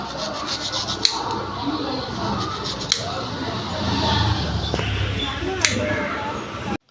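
Ice apple palm fruit (nungu) being cut by hand, with continuous rough rubbing and scraping punctuated by a few sharp knocks, while people talk in the background.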